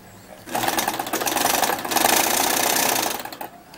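A sewing machine stitching a fabric waistband runs in a steady, rapid mechanical whir for about three seconds, loud and close, starting and stopping cleanly with quiet pauses on either side.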